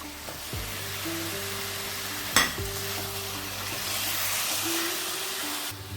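Fried hilsa fish heads going into a pan of softened ash gourd, a low steady sizzle with a sharp clank of metal against the pan midway and faint stirring.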